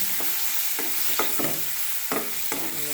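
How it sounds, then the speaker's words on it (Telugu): Prawns frying in a pan for a cauliflower prawn curry, a dense continuous sizzle broken by a few spatula scrapes and stirs, close and with no speech. "రొయ్యలు బాగా గోల్డెన్ బ్రౌన్ వరకు వేసుకోవాలి."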